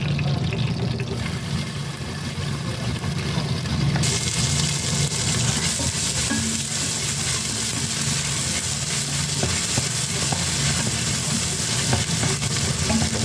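Ginger sizzling and frying in a pressure cooker pot for an Ilokano-style goat offal stew, a steady close crackle with stirring scrapes that continues without a break.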